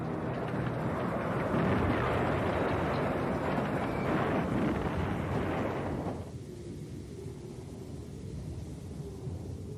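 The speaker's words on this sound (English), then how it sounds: "The evacuation's race against time continued beneath the shells of the German artillery and the" Heavy, rolling blasts of German artillery shells and Luftwaffe bombs bursting, a dense roaring rumble that holds loud for six seconds, then drops abruptly to a quieter low drone.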